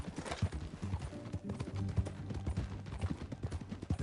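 Horse hooves clip-clop steadily while riding in Red Dead Redemption 2, a continuous close rhythm of hoofbeats with a low game soundtrack beneath.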